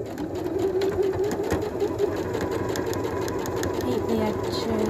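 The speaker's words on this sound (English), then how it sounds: "Now I'm sat at the machine, lower my presser foot, got my fabric lined up with the 1 centimeter seam allowance." A sewing machine runs steadily, stitching face-mask fabric along a 1 cm seam allowance with the presser foot down, a continuous close whirring drone under intermittent speech.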